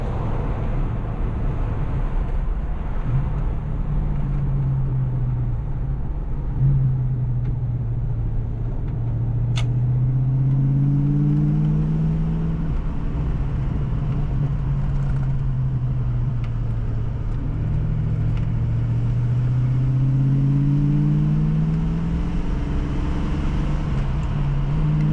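Steady engine drone from a 1988 Ford Mustang GT Fox Body with T-tops while driving, heard from inside the car. The low rumble rises and falls in pitch as it shifts through gears, loud and continuous with no talking.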